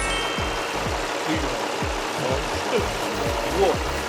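A first-generation Lexus RX with a 3.3-litre V6 VVTi engine idles with a regular low pulsing beat, moderately faint and steady throughout, with a faint high whine above it.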